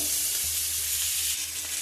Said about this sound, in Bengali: ফোড়ন টোড়ন দিয়ে এটা একটু ভাজা ভাজা হয়ে গেলে